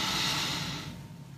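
One deep inhalation during morning yoga, a close, soft rushing breath that tapers off after about a second.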